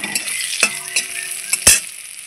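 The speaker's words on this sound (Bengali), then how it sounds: "আমি এখন কালো জিরে দিয়ে দেবো ফোড়নে" Nigella seeds tempering in hot oil give a close, crisp sizzle punctuated by a few sharp pops and spoon clinks, with no voices.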